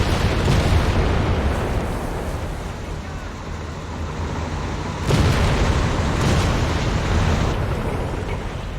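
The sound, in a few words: bombing explosions, friendly fire in video game Company of Heroes 3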